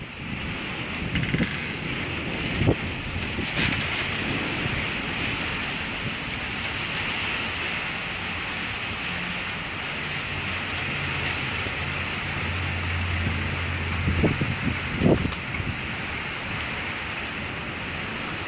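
Strong storm wind gusting steadily outdoors during severe weather in Oklahoma, with rain pattering throughout and a few sharp rattling knocks, like a shaking carport, near the end; no one speaks.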